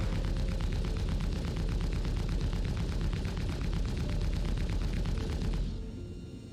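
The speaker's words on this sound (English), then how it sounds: "Twin plasma cannons." Twin plasma cannons fire from the belly turret of an Origin Jumpworks 400i in the Star Citizen game, a loud, fast, continuous volley of rapid shots that cuts off near the end.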